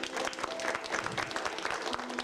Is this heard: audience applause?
yes